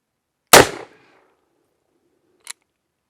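A single loud, close shot from a Cimarron .44 Magnum revolver with a short decaying echo, followed two seconds later by a faint metallic click.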